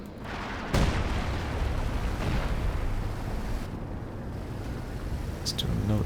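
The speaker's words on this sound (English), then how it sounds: "Still another priest barrage targeting the A sector" A Priest self-propelled artillery barrage in Company of Heroes 2 opens with a loud boom and becomes a continuous low rumble of explosions, and someone talks over it.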